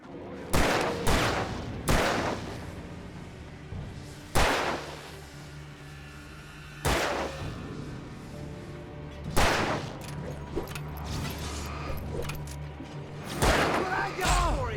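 Gunshots ring out in the video game Alan Wake Remastered, roughly half a dozen sharp, loud blasts spaced a couple of seconds apart, each with a ringing tail, over a low rumbling ambience.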